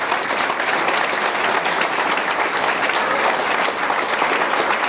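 Loud, dense applause from a live audience, steady and sustained for the whole stretch with no voices standing out, close and filling the room at a candidates' forum.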